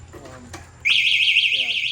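A voice speaks briefly, then a loud, warbling electronic anti-theft alarm on an NWOW ERVS2 electric bike bursts on and keeps wailing steadily, close by.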